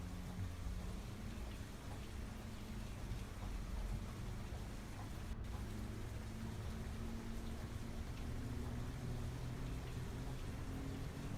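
Steady rain falls in Farming Simulator 25, a constant soft wash of drops on surfaces with a low rumble underneath, continuous and even with no talk.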